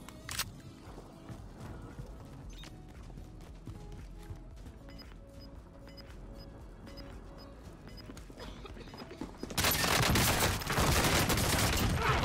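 Gunfire from an M16 and a MAC-10 in Call of Duty Warzone: scattered shots and mechanical clicks over a steady game backdrop, followed near the end by a sudden loud, sustained roar of intense firing.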